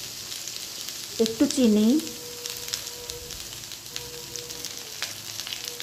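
Ridge gourd frying and sizzling in a pan with salt, a steady hiss throughout with faint stirring, while someone speaks briefly near the start.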